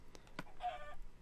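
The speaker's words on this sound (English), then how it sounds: "I just heard a chicken take some damage." Minecraft chicken taking damage on Xbox: a brief, faint clucking squawk with a couple of short chirps, heard alone over quiet game ambience.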